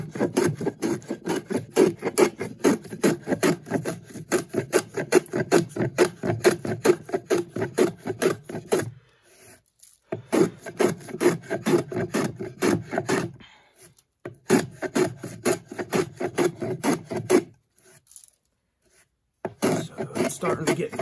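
A hand plane shaves green wood clamped on a Roman workbench in rapid rhythmic strokes, each a rasping swish, with short pauses between bursts of planing.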